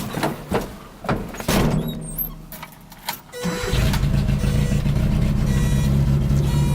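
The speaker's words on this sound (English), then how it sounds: "it's just a loud 4-cylinder with no exhaust." Datsun 620 pickup with a 4-cylinder engine and no exhaust, preceded by clunks and rattles, then a short crank that catches into a loud, raw, steady idle.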